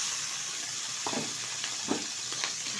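Washed catla fish roe and fat frying in hot mustard oil with green chillies, a steady close sizzle and hiss throughout, with a few soft stirring scrapes partway through.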